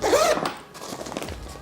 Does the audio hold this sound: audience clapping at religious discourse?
no